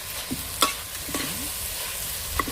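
Soft sizzling of a spice tempering in hot oil, with a few scattered clinks and stirring noises close by; quiet and brief.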